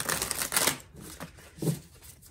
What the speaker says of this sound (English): now that quick shuffle